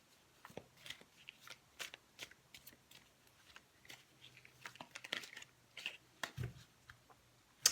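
Cosmic Tarot cards being shuffled in repeated quick riffles and snaps, close and fairly quiet, with a low hum beneath and no talking.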